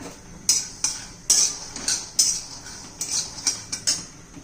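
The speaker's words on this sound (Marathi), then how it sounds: "शेंगदाण्यामध्ये एक चमचा जिरं पण घालायचंय तेही भाजून घ्यायचे आपल्याला" Peanuts and cumin seeds dry-roasting in a pan, heard as a series of sharp scraping and rattling strokes of a spoon against the metal, about a dozen in irregular rhythm, close and fairly loud.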